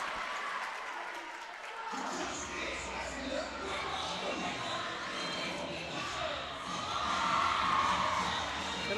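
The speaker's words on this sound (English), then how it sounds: "Excellent crowd participation by the Crusher fans." Crusher fans cheer and clap in a loud, sustained crowd roar at a District 6 cheerleading championship, with shouts and whoops from a large audience that swells louder near the end.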